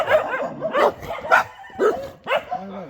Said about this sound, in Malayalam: അവിടെ ഏകദേശം ഒരു 100-150 ഡോഗ്സ് ഉണ്ടാവും എന്നാണ് പറഞ്ഞത്.